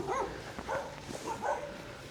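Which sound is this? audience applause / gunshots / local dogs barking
local dogs barking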